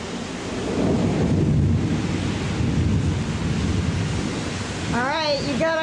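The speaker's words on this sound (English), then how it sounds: "Alright, you gotta hear that thunder." Deep rolling thunder rumbles for several seconds over steady rain; a voice speaks briefly at the end.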